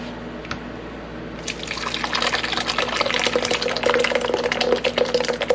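Liquid pouring and draining in a sink while making soy milk and tofu, starting faintly then swelling into a steady, splashing trickle with dripping, close and fairly loud, no talk.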